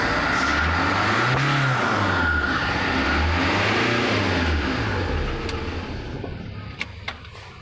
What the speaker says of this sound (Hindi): अभी गाड़ी स्टार्ट हो गया हमारा।